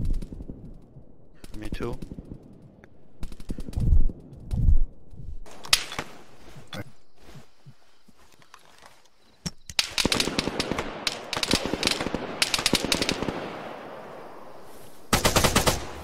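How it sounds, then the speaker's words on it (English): Bursts of automatic gunfire and single shots ring out in a military video game, some sharp and close, others in dense rattling volleys, mixed with brief radio-style talk. "Enemy fire."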